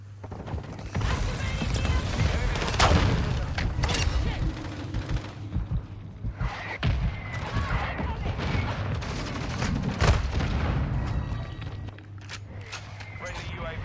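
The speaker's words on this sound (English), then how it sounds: "Friendly mortar strike inbound." Mortar strike in Call of Duty Modern Warfare II, a busy stretch of rattling gunfire and thudding impacts with footsteps and game voice lines heard throughout.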